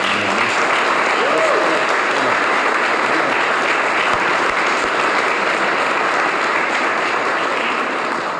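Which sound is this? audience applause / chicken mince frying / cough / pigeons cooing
audience applause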